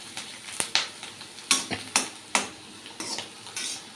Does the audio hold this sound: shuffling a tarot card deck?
no